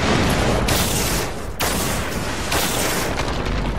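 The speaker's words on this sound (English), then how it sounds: "Guy's trying to get me with his mortars" Mortar blasts in Destiny arrive as heavy booming explosions, a few loud close impacts with rumbling tails, one after another, with no speech.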